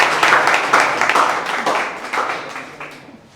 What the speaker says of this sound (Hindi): आइए मैम का भी स्वागत तालियां बजाकर आप लोग करिए।